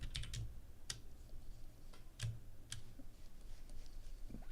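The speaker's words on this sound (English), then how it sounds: "listen to like the sound the keyboard makes when I type" A few quiet, scattered keystrokes clack on a computer keyboard in a hushed room, soft taps spaced unevenly with no talking.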